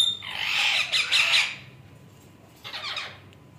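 A grey parrot being hand-fed gives two harsh, shrill squawks, the first longer and louder, the second shorter after a brief quiet gap, close by with no talk.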